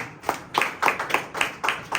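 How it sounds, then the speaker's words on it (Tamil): A church congregation claps together in a steady rhythm, about seven loud, slightly reverberant hand claps in two seconds, with no talking heard. "கைத்தட்டி ஆண்டவரை மகிமைப்படுத்தலாமா?"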